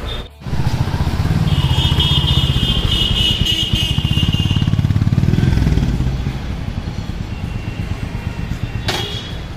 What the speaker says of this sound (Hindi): क्लासिक थ्री फिफ्टी की टेस्ट ड्राइव ले रहे हैं